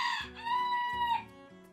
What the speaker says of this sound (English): My chicken approves that you're rude.